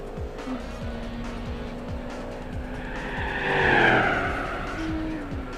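A race car in Gran Turismo 4 at Laguna Seca during a 200-mile endurance event, with engine tones stepping through repeated upshifts and a tire squeal swelling in the middle, loud and close, with no talk.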